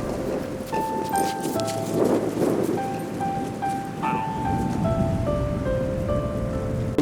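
Steady rain falls by the seaside, a soft, even hiss of drops on surfaces heard from nearby, with faint tonal sounds drifting over it throughout.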